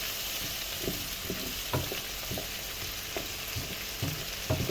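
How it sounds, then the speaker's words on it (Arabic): Spices toasting in a hot pan for kabsa, giving a steady broad sizzle with scattered scraping stirs and light knocks, close up and without speech. "هنزل بقى كده التوابل دي تتحمص كده وتطلع لنا ريحه بقى"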